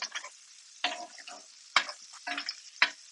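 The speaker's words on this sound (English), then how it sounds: "And then we are going to butter bathe it for 1 minute." A spoon repeatedly ladles melted butter over meat in a hot pan, giving a few sharp sizzling bursts and scrapes with short quiet pauses between them, close and fairly clear.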